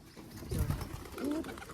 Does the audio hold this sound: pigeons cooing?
yes